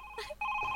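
A telephone rings in short electronic tones, a brief two-part trill heard close and clear with a short gap between the bursts.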